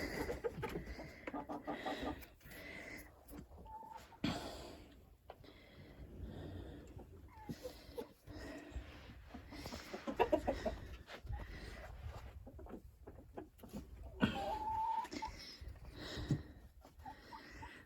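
Chickens and a rooster cluck and murmur steadily in a warm coop during frosty, snowy weather, with a few louder squawks and rustling throughout, close and fairly busy.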